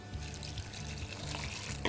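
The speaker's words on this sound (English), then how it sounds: "I'm going to cover them with boiling water" Boiling water is poured over dried porcini in a heat-proof bowl, giving a steady splashing, gurgling stream of liquid that lasts the whole moment.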